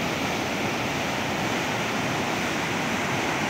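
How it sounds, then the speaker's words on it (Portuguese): Water rushes over the spillway of the Forquilha reservoir in a heavy, steady roar, a dense unbroken wash of sound with no pauses or voices. "A sangria realmente tá muito forte."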